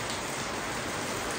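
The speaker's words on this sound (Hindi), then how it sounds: "बरसात के दिन आ गए, मतलब फाइनली।" Steady, loud rain pouring down on the first rainy day of the season, a dense, unbroken hiss of drops with no talking.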